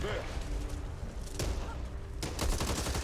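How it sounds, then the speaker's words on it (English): Explosions and bursts of gunfire in the Back 4 Blood video game, a few sharp blasts and rapid shots over a dense rumbling mix, with a voice talking. "Yeah, even with explosions going on."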